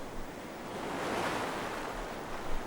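Ocean waves breaking on a beach, a continuous roar of surf that swells to a peak midway and surges again at the end, with a wind-like hiss and no talk.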